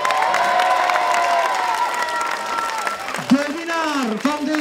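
Crowd applauding and cheering at a cyclocross podium ceremony, a steady wash of clapping held throughout, with someone talking over it near the end.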